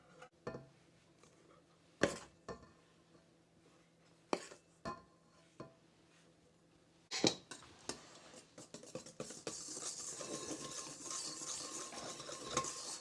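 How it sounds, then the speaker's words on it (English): Dry ingredients for cinnamon coffee cake muffins are mixed in a bowl with a whisk: a few soft taps and clinks, then a steady, rapid scraping whirl that continues quietly to the end, with no voices. "we'll mix the dry ingredients in here until combined. I'll start out with a whisk"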